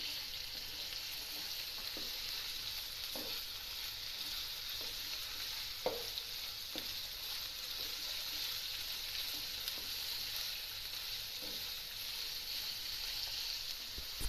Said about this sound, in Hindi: अब हमारा ये देखो चिकन हो गया फ्राई।